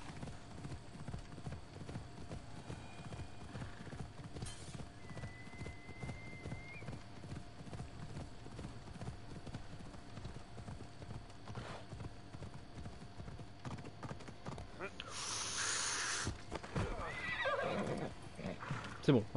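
Horse hooves clip-clop steadily while riding in the video game Odyssey, with occasional whinnies and someone talking over the rhythmic plodding, plus a brief louder burst near the end.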